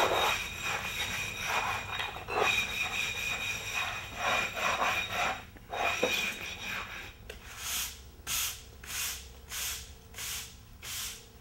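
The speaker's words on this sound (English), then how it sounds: "The easiest thing to do is just remove those with a rub stone." Rub stone smoothing a dried rough-grade micro-topping, a steady gritty rasping scrape that gives way to slow rhythmic back-and-forth strokes, close and moderately loud with no talk.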